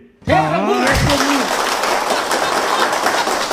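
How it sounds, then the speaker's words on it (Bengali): An audience claps at a comedy skit. A brief voice comes first, then dense, steady applause starts abruptly and carries on loud to the end. "হাততালির জোশটা কম হচ্ছে"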